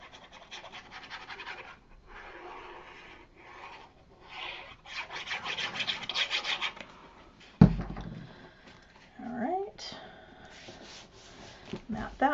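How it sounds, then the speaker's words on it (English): Paper for a baby folio is folded and burnished with repeated soft rubbing and scraping strokes, interrupted by one sharp tap or crease, all close and fairly quiet. "So again, folding and burnishing."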